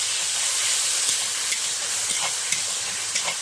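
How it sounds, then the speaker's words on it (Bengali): Water hits Kashmiri chilli powder and turmeric in a hot pan, giving a steady bright sizzling hiss with a few small pops and stirring scrapes, close and alone. "এইটা একটু জল দিয়ে দেবো, নাহলে হলুদটা হয়ে যাবে, পুড়ে যাবে"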